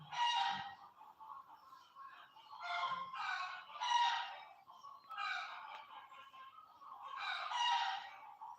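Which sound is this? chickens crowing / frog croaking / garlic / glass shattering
chickens crowing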